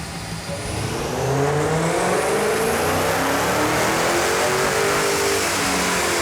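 A powerful high-horsepower muscle car engine, a Dodge Hellcat or original Daytona, revs and roars continuously, its pitch climbing and sweeping upward, loud and close with no talking.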